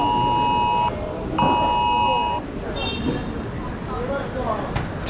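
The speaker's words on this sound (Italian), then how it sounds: "sta continuando ad arrivarmi l'allarme" Repeated electronic alarm tones ring in short bursts, then a different beeping pattern follows, with background clatter and voices underneath.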